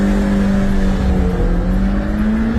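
A 1.3-litre Suzuki Jimny accelerates hard in a street race against a BMW, its engine droning loud and close with a steady rising tone and no pause throughout.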